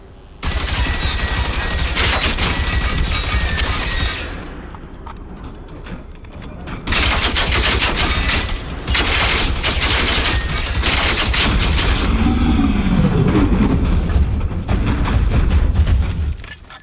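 Gunfire bursting near the player in the video game Generation Zero, loud sustained rattling volleys with a short lull between bursts, close and dense.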